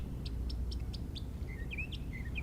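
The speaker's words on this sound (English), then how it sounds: "birds chirping around me and the ducks honking in the back" Small birds chirp outdoors in short, bright bursts, then give a few sliding whistled calls. All of it is faint over a constant low background rumble, and ducks honk only indistinctly in the distance.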